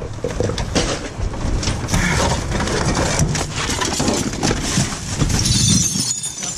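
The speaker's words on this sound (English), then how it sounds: "Work around the broken glass." Broken glass and scrap, including aluminum, clink and shift in a dumpster, producing dense, continuous rummaging clatter at close range with no talk.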